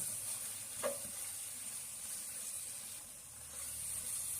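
Apple halwa with ghee-fried cashews and raisins gets stirred in a pan, giving a faint, soft sizzle with a quick scrape early on, quiet and without voices.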